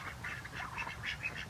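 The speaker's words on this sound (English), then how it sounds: "You can hear them quacking there." Runner ducks on a homestead quacking in a rapid, busy chorus of nasal calls from a few birds close by, with no talking.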